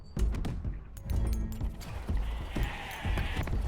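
Sheep bleat in the action roguelite game Wanderburg, several short bleats close up over clattering footsteps, mechanical clanks and other game effects.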